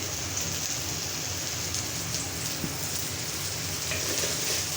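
Fish coated in salt, turmeric and chilli frying in a pan, a steady dense sizzle and crackle held close and even with no pauses.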